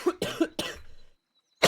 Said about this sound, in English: I am coughing up a little bit